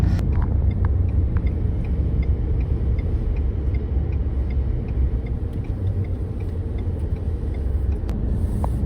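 A car drives through a residential neighborhood with a steady low engine and road rumble heard from inside, constant and fairly loud, with faint rattles.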